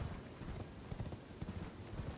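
Horse hooves clip-clop in quick, even rhythm as a rider travels through a swampy area in the Elden Ring video game, the beats close and continuous beneath faint background ambience.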